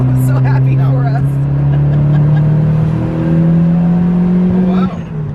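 A turbocharged 2G Mitsubishi Eclipse accelerates steadily, its engine drone climbing slowly in pitch for about five seconds from inside the car. It is loud and continuous, with faint voices in the cabin.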